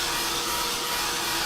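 A dryer blows onto a spot of paste paper, a steady, fairly loud airy roar that holds constant throughout with no voices.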